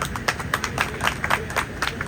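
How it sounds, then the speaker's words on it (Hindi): An audience at a jewellery store grand opening claps briefly for a guest, a faint, scattered patter of hands with no voices over it. "सर के लिए जोरदार तालियां।"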